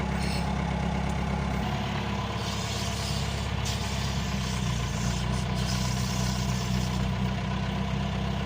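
A John Deere 2140 tractor engine runs steadily nearby, a continuous low diesel throb with a slight shift in pitch partway through and no talking.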